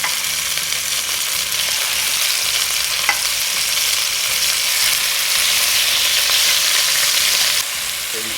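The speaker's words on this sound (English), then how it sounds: "Go ahead and add our meat to the bottom. You can hear that sizzle." Boneless beef short ribs searing in hot oil in a pan, a loud, steady crackling sizzle that carries on throughout, with a brief sharp pop partway and no talking.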